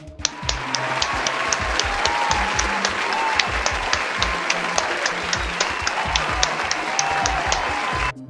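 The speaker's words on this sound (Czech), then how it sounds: "musíme samozřejmě zatleskat každému novému tvůrcovi, co tady k nám do levelu od fanoušku přijde" Loud, steady audience applause, dense continuous clapping from a crowd sustained from start to finish with no voices.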